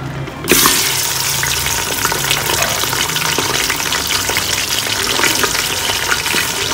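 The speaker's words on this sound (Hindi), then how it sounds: "मटन को ऑयल में मैं फ्राई कर दूँगी" Half a kilo of mutton hits hot oil with a sudden loud sizzle that settles into a steady, crackling fry while cooking tinday gosht, with occasional stirring sounds and no talking.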